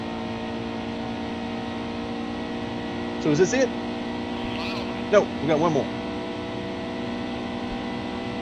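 Steady, droning stock-car engine hum in the NASCAR Heat 2 racing game at Chicagoland, a constant tonal buzz running throughout beneath someone speaking briefly.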